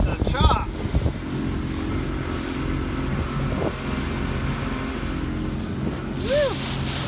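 A vintage lake boat motor drones steadily while the hull slaps across choppy, windy water, with wind buffeting the microphone and brief voices near the start and end.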